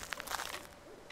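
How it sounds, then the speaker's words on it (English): An owl hoots in the horror video game Slender, a few quick hoots close together followed by a fading trailing note, with no talking over it. "That owl needs to do one."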